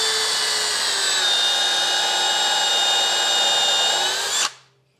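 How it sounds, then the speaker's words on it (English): A power drill drives screws into a wooden shooting board: one loud, close, sustained high whine that runs steadily for about four seconds, then cuts off abruptly into silence. "So I'm going to go in and put some screws in there."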